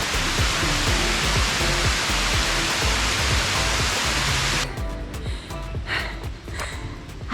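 Waterfall at Konoko Waterfalls tumbling down a chain of rocky pools, a loud, dense, steady roar close by that drops abruptly in level partway through as the position shifts, then continues more softly and unevenly.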